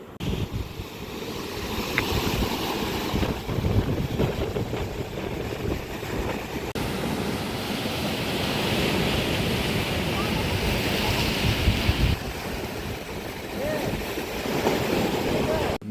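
Sea waves wash against a jetty near Arnala fort, a continuous roaring surge of surf mixed with heavy wind rumble on the microphone, loud and close, with a person speaking intermittently underneath.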